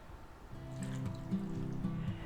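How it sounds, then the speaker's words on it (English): About two tablespoons of water poured into a chicken marinade made with salt, a steady trickle whose tone rises as the container fills, close and clear with no talking. "And we're going to add 2 tablespoons of water."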